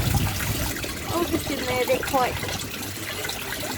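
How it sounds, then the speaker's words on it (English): Water trickles and splashes as it is poured into the pump of a backyard aquaponics fish setup, a close, uneven gurgling stream while a person talks briefly over it. "I'm just putting some more water in the pump"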